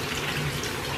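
Water runs in a steady, close gush while a large St. Bernard dog is bathed, a continuous splashing flow with no talking.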